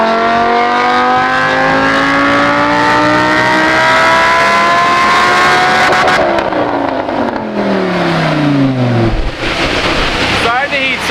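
A Lamborghini Huracan engine revving hard on a dyno during a power run, loud and close, climbing steadily in pitch, then dropping as the revs fall, with a brief voice near the end.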